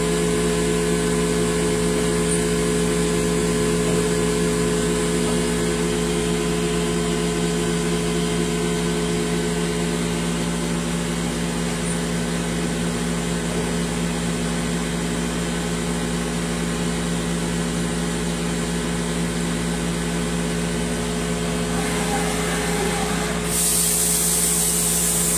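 A Mazak Integrex 200-IIIS multitasking turning center mills with a tool on its first spindle, producing a loud, continuous mechanical drone with steady tonal whine and hiss that barely changes, shifting slightly near the end.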